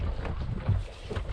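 A Suzuki outboard motor on a small boat, troubled by a smoked coil, runs with a low steady rumble, mixed with wind buffeting the microphone for a brief moment.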